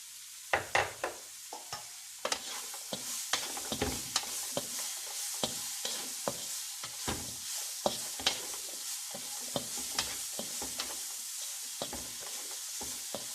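Bell pepper and chicken cook with ginger in a pan for a Chinese-style cabbage dish: a soft, steady sizzle broken by frequent sharp utensil scrapes and clicks from stirring.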